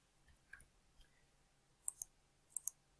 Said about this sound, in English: So let's just type in John Doe.